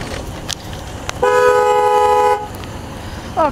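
Car horn at a drive-thru, a single steady honk lasting about a second, loud and fairly close, between short clicks and low idling background noise.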